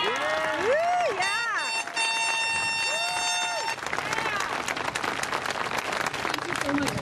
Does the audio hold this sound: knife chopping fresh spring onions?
no